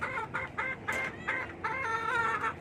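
A hen-feathered Kannawayon muff gamefowl clucks in a rapid series of close, moderately loud calls, with faint background noise and no talking.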